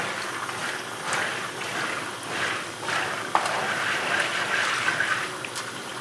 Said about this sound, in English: Rinsing off the peas in there